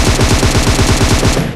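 An automatic rifle with heavy recoil fires a rapid, loud burst of about a dozen evenly spaced shots in the PUBG Mobile game, close and dense, cutting off abruptly near the end.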